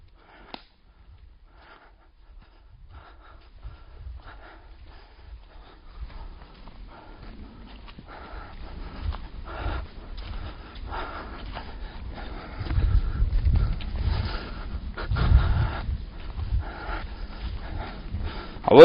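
Two dogs on a hike near Pierrefonds, snuffling and sniffing close by, starting faint and growing louder and busier, with breathy panting and rustling toward the end.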